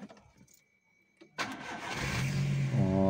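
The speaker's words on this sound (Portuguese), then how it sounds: "ligar o carro com a antiga." A VW Golf engine cranks and catches when started with the old key, a brief click and quiet lead-in giving way to a loud, steady mid-pitched idle that holds close and alone.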